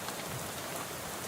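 Steady rain falls in the video game Shadows Over Loathing, a dense, even hiss of drops striking surfaces that fills the short stretch with no other sounds.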